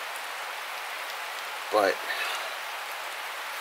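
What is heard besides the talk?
rain falling while hammock camping in winter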